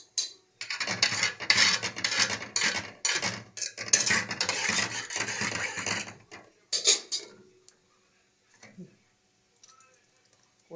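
A ladle clinks and scrapes around a pot of thickened soup, a cluster of dense clattering strokes for about six seconds before it thins out to a few faint taps near the end.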